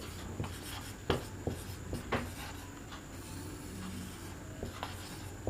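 Handwriting on paper, with pen strokes scratching and tapping irregularly, occasional sharper marks and brief pauses, close and quiet with no talk.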